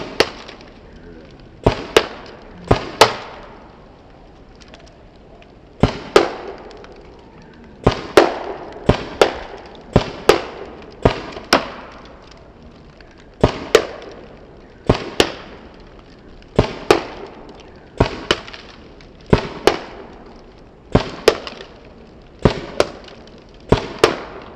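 Paintball marker shots fired through a Lone paintball barrel, sharp loud pops coming singly and in quick pairs at an uneven pace, about twenty in all, each with a short ringing tail.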